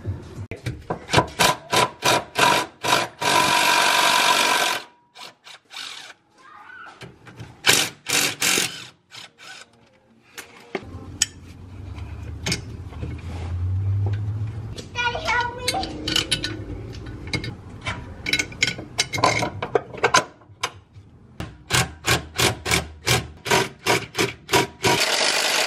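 A ratcheting wrench clicks in fast bursts while bolts are removed and a differential brace is mounted on a Nissan 350Z, with short metallic rattles and pauses between the runs of rapid clicks.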